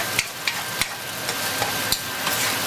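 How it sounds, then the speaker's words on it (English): Onions cooking down slowly in a pan over moderate heat give a steady, soft sizzle with a few sharp clicks and scrapes of a spoon stirring, close by and with no talking. "And we're going to allow the onions to cook down for about 5 to 7 minutes."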